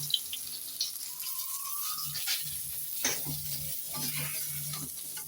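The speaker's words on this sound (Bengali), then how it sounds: "ভেটকি মাছ তেলের মধ্যে ছেড়ে দিয়েছি" Bhetki fish pieces frying in hot oil, a steady soft sizzle with faint clinks and scraping of a utensil in the pan, close and continuous without talk.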